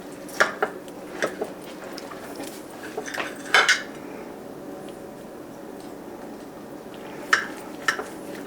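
Cutlery scrapes and clinks against a plate while slices of keto turkey meatloaf are cut, heard as a few sharp metallic taps clustered at the start, middle and end over a quiet room hum.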